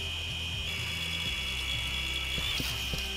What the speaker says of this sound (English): Surgical drill and chop off his bones.